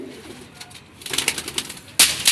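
Golden pigeons coo close by in short throaty bursts, quiet at first, then a busier run of calls and a sudden louder flurry near the end.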